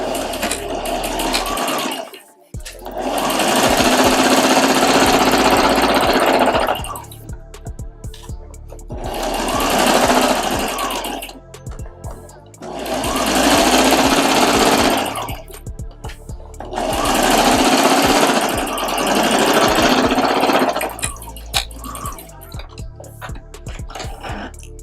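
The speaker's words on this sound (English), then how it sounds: "we're going to do the same thing, stitching 1/4 of an inch right down the bottom" Sewing machine stitching a quarter-inch seam along the bottom of a fabric face mask, its motor running in five sustained whirring bursts separated by short pauses, close and clear.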